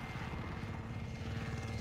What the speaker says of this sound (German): Ein feindlicher Angriffshelikopter ist im Gebiet.